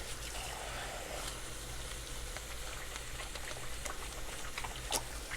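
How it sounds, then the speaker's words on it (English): Running water from a tap splashing steadily as hands are washed in a home kitchen, a constant close hiss and patter with small splashes throughout. "Let me wash my hands."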